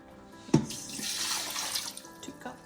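Water runs from a tap into a Carey pressure canner, a steady splashing gush after a sharp knock at the start, close by and loud, with no talking.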